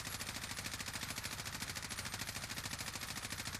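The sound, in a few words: gunfire from a video game, emptying a magazine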